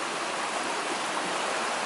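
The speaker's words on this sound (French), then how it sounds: "Il y a une petite cascade pour qu'ils jouent là." A small park waterfall by the Doncaster River gives a steady, dense rush of falling water, close and continuous.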